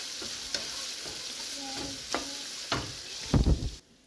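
Sausage frying in a pan hisses quietly and steadily, with occasional spatula scrapes and a louder clattering stir just before it cuts off.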